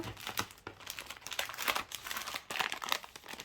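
Plastic packets crinkle and rustle in steady bursts as they're handled up close.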